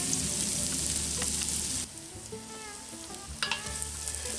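Onions sizzle and fry in a Dutch oven for chili, a dense steady crackle that drops to a softer sizzle midway with light stirring clinks, close and alone.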